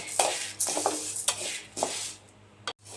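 Grains and lentils roasting dry in a pan for sambar powder, stirred with a utensil: repeated scraping strokes and light crackling over a faint steady hum, close up, with no speech.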